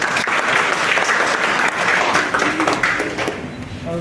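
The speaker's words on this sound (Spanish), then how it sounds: "Aplausos," An audience at a university human medicine debate applauds, dense loud clapping that carries on steadily and fades slightly at the end.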